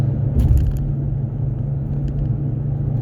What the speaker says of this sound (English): It definitely does have that wheel bearing noise.